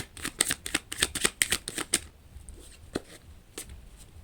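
A deck of oracle cards is shuffled by hand, giving a quick burst of crisp riffling flicks for about two seconds, followed by a few scattered soft card taps, near and fairly quiet.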